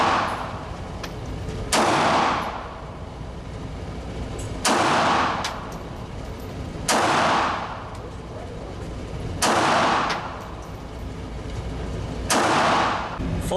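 An S&W Bodyguard 2.0 pistol test-fired in five loud, sharp shots spaced a few seconds apart, each followed by a brief ringing decay.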